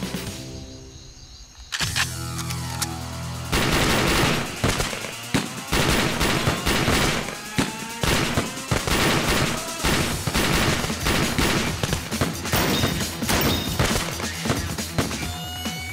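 Dense, rapid gunfire from an action movie scene, a loud sustained fusillade of overlapping shots and bursts lasting many seconds after a brief quieter opening, with crashing impacts mixed in.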